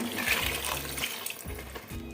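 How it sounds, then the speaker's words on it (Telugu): A steady rush of water pours into a vessel for a couple of seconds, fairly close and continuous, with no one speaking. "ఇప్పుడు నీళ్ళు వేసుకోవాలి"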